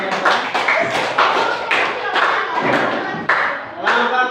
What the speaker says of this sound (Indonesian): kita kasih tepuk tangan buat kelompok 2